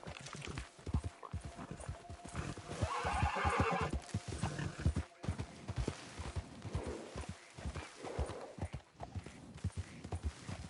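A horse in the Red Dead Redemption video game gallops with steady, quick hoofbeat clip-clops and lets out a drawn-out neigh midway, heard fairly close throughout the run.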